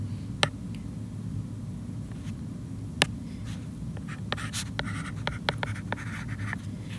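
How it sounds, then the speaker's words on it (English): Chalk or marker strokes on a classroom board while a geometry proof is written, with sharp taps and scratchy bursts scattered through a steady low room hum, growing busier toward the end. "we are going to write J is parallel to K"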